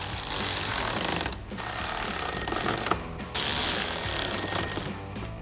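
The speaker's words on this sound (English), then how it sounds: "take a 7mm socket to tighten those down" A 7mm socket on a power driver rattles rapidly, tightening bumper air dam screws on a 2015-2023 Dodge Charger, in loud close bursts with two short pauses between them.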